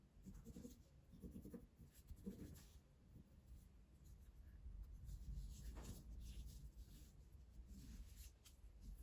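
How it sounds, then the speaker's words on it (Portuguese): A pen marks seam lines on fabric close up, making quiet, scratchy strokes in short bursts and then a longer steady scribble, all faint and without talk. "Que eu vou riscar com caneta para dar para você ver"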